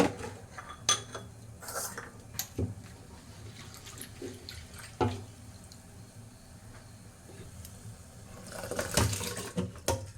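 Rice is washed in a cooking pot, with scattered clinks and knocks of the pot, soft water sloshing and a few louder splashy bursts, quiet and close, with no talking.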